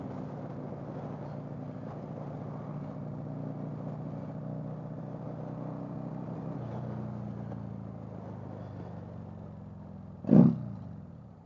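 A motorcycle on a test ride after valve clearance adjustment hums with a steady engine drone, pitch shifting gradually as it cruises, ending with a brief loud thump.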